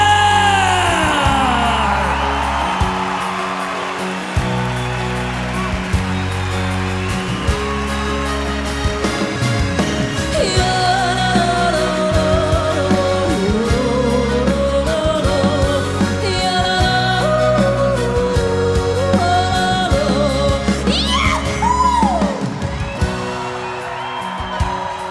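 A concert crowd at a Swiss open-air show in Visp cheers for a singer, with whoops and yells running over a steady, pounding band groove throughout.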